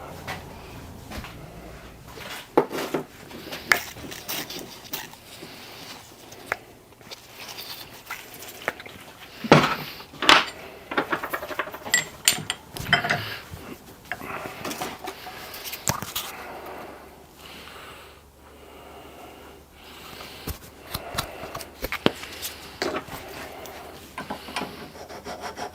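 A silver-soldered valve seat is lapped with a coarser grinding paste. It makes a long, irregular gritty rubbing and scraping with uneven strokes and small knocks, quiet and close, and goes on for over twenty seconds.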